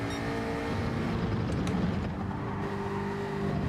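A Jaguar race car in Gran Turismo 7 drones with a steady, sustained engine note at constant load, close and continuous with slight pitch wavering and no pauses.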